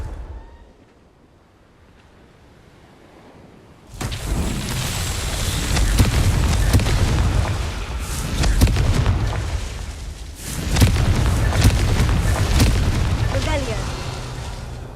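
Confringo fire spells in the Hogwarts Legacy game fire off as booming blasts, with repeated loud explosions and crackling rumble after a quiet opening, the bursts dense and overlapping.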